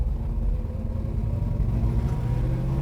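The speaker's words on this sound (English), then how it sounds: "Now she's downshifting good. Just went from third to second right there" A 1968 Chevrolet Chevelle SS V8 rumbling steadily from inside as it downshifts, a continuous low engine drone with shifting tone and no talk over it.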